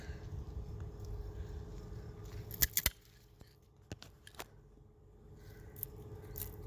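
Hand cutters snip through raspberry cane during pruning, a couple of sharp close clicks and snaps followed by a few lighter taps, over faint outdoor background, with no speech.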